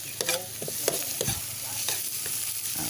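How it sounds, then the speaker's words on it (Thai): Freshwater clams stir-fried with holy basil in a pan, with a continuous close sizzle broken by repeated scraping and clattering strokes of a spatula. "คั่วไปสักพักหนึ่งนะครับเนาะ"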